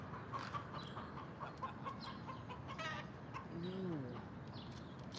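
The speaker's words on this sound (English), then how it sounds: "There's a chicken in this neighborhood." A chicken clucking somewhere in a residential neighborhood, a few short distant clucks and one brief rising call against steady outdoor background hum.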